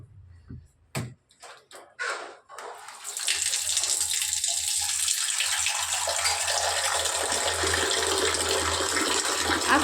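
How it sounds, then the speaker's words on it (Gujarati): Water pours steadily from a household water filter tap into a container in a home kitchen, a continuous close splashing rush after a few brief clicks and taps, with no talk. "ચાલો તો પાણી કેમાંથી? આજે ફિલ્ટરમાંથી ભરલો લાવ ભરલો."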